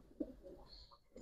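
A male racing pigeon gives a short, faint coo nearby, one brief throaty call against quiet background.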